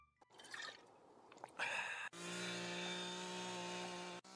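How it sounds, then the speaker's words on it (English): A chainsaw in a comedy skit revs up after a few brief clatters and knocks, then holds a loud, steady, buzzing drone for about two seconds before cutting off abruptly. "that's with chainsaw. I think that's a little loud"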